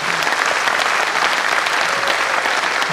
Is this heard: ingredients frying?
no